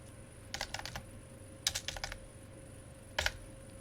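Typing on a computer keyboard, in three quick bursts of crisp clicks separated by pauses, close and quiet over a steady background hum.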